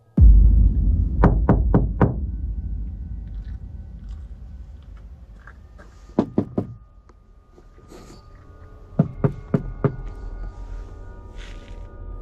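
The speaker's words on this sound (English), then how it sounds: "A stranger began pounding on the panels, knocking in different places as if testing for a reaction" Quick clusters of three to five dull knocks strike a van's panels, repeated in separate bursts with pauses between them, close and sharp over a low rumbling background.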